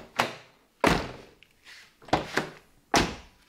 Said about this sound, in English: listen to the E46 door. It's definitely lighter. It feels a little bit shorter. And when you close it,